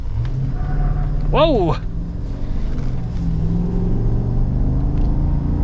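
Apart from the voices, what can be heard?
2025 Chevy Silverado ZR2 Bison truck accelerating, tires losing traction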